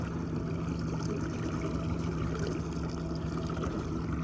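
Steady low rumble of an otter trawling fishing boat off Maine running fast with the wind at its back, with engine drone and water rushing past, continuous and close.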